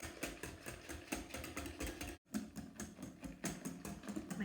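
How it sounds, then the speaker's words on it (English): About three cups of heavy cream whisked until it thickens, a faint, fast rhythmic whirring and clicking that runs steadily with one brief break midway. "this is about 3 cups of heavy cream. I'm just going to whisk it"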